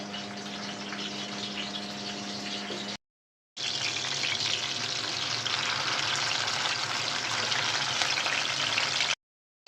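Koi fish paturi wrapped in gourd leaves frying in oil in a frying pan, a dense continuous sizzle broken by two short silences, heard close with no talking.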